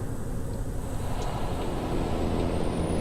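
Loud, steady rumble of a truck engine in American Truck Simulator, droning continuously, with a thin high whine running over the low growl.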